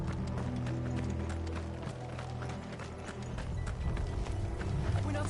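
Horses galloping in the video game Final Fantasy 16, a steady rapid drumming of hooves mixed with rattling gear and a tense music bed, continuous and fairly loud.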